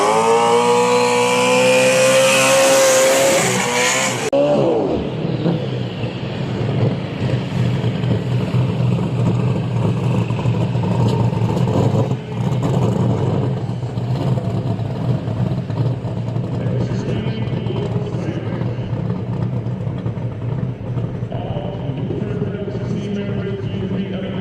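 A small-block single-turbo drag race car at a door-slammer event on a dragstrip revs up sharply, then roars off and fades over a long stretch. A person talks over the engine noise throughout.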